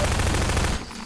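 A short, loud burst of rapid automatic gunfire in Half-Life 2, dense and close, cutting off abruptly after under a second.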